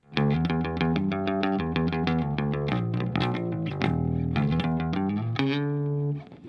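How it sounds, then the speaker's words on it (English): A cheap bass guitar played through a compressor, delay and reverb, with a quick run of notes ringing out in a dense, effected tone for several seconds, no talking. "this is a cheap little bass, but it sounds good on a lot"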